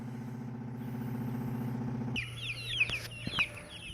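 Young chickens, hatched about two weeks earlier, give brief high peeps outdoors in the second half, after a steady low mechanical hum cuts off.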